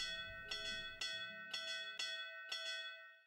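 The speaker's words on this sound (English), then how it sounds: "All that's left is to ring the bell and wait." A clapper bell rung in a horror visual novel game, six clear metallic strikes about half a second apart, each ringing out with long bright overtones that overlap and decay.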